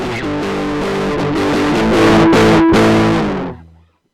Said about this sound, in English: that's distortion.